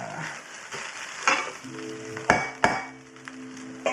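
Chicken fried rice searing in a pan without a wok, a continuous hiss of frying with a few sharp scrapes and taps as a spoon pushes the rice to the edges.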